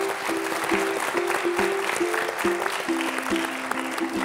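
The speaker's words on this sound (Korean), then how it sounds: "박수로 맞아서 이야기를 좀 듣겠습니다." An audience at an education forum applauds to welcome a county governor to the stage, a dense, continuous wash of clapping with a faint steady tone beneath it.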